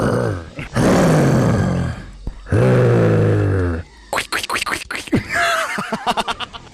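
Students voice loud, harsh growls imitating the guttural vocals of moshing music, two long sustained roars followed by a burst of shorter choppy grunts and squeal-like cries, close to the microphone.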